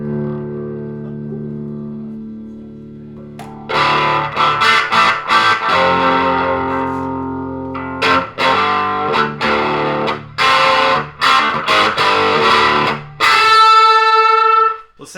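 Electric guitar played through a 3D-printed Goff Rocker amp with no speaker cabinet, giving a thin, distorted tone; chords ring out, then choppy strums and short stabs, ending on a bright sustained note.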